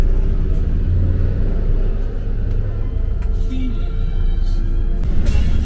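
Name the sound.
old bus engine rumbling during a ride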